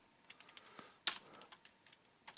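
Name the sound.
fumbled typing on a computer keyboard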